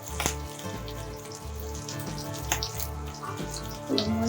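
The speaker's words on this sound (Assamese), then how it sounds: "তেল গৰম হৈ গৈছে এতিয়া ইয়াত মই নহৰুখিনি দি দিম আদা নহৰুখিনি প্ৰথমতে" Ginger and garlic sizzle as they are dropped into hot oil for chicken fried rice, a crackling fry with scattered pops over a low, pulsing background hum.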